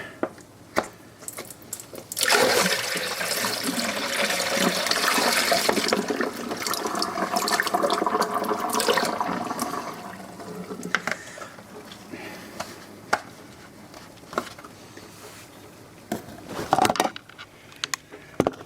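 Dirty water pours out in a long, steady rushing stream that lasts several seconds before thinning to scattered trickles and drips, fairly close, with no talk over it.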